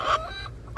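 Backyard hens give a few short, close clucks in quick succession, bright and clear with only faint background behind them.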